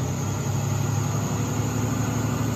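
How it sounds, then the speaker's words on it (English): A school bus converted into a skoolie idles steadily during an engine diagnostic test, giving a continuous low rumble and vibration close by, with no talking. "They're hooking Bobby up to a computer that is going to run a bunch of tests on the health of the engine."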